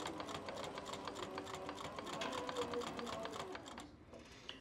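A leather sewing machine stitching at a fast, steady mechanical rhythm that runs continuously and then slows and stops near the end.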